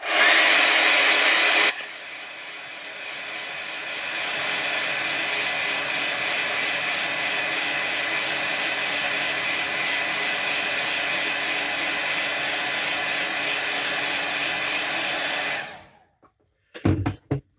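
A hair dryer blows over a watercolor gouache painting in a loud, steady whir that changes tone briefly near the start, runs unbroken for about sixteen seconds, then cuts off, followed by a few clicks and handling noises.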